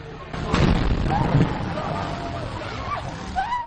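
A second gas depot blast in Yaoundé's Mimboman district, a booming burst early on that settles into steady rumble, with people's voices and shouting underneath.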